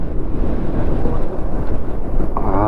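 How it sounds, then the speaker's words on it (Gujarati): Cold wind roars steadily against the microphone of a Splendor motorcycle riding near Savarkundla in rainy weather. The rush is loud and continuous for the whole stretch, with no talking. "હા, ઠંડો પવન છે તારે."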